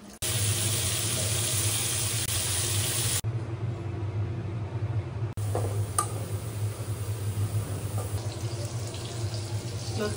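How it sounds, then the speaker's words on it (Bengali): Water runs steadily from a tap over taro stolons being washed outdoors, a loud continuous rushing stream that briefly drops out and resumes, with no one speaking. "লতিতে জলের পানি দিয়ে দিয়েছে"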